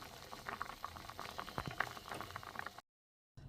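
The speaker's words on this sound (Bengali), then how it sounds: "মাছটা সেদ্ধ হতে থাক" Fish simmering in a pot of boiling water, a soft bubbling and gurgling that pops irregularly close by, then a brief dead silence before the bubbling resumes.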